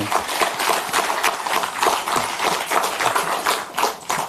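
Lawmakers clapping together at a press conference on a special counsel bill, a dense, steady round of applause filling the room with no voices over it.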